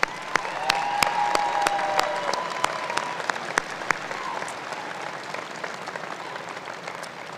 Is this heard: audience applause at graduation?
yes